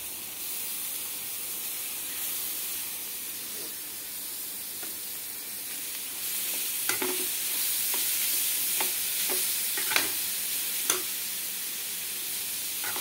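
Spoon stirring grated carrot into fried onions in a hot pan, a steady sizzle and hiss broken by several scraping, clattering strokes against the metal, close and alone without any talk.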